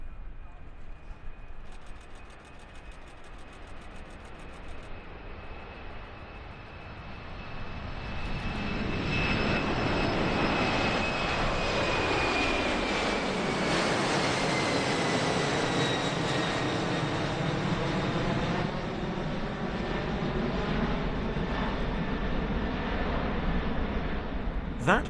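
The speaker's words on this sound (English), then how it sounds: "the departure of the C-5M Galaxy, which turned to overfly the airfield shortly after takeoff" A C-5M Galaxy transport jet departs and turns to overfly an airfield, its loud, steady engine roar building, then sweeping overhead with a shifting whine as it passes at close range.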